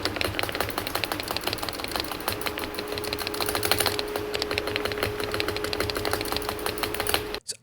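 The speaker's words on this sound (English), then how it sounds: "the first thing I noticed was the insane rattle on my spacebar" The spacebar on a Wooting 80HE keyboard rattles through steady fast typing, a dense close clatter of keystrokes with a faint buzzing rattle under them, no voices.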